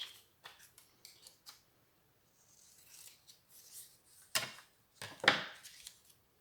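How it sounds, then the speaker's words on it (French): Scissors snip through card paper at an angle while a simple Christmas card is made, giving a few short, close, crisp cuts separated by quiet pauses, with no talking. "Et celui-là, je vais le couper un peu plus en biais."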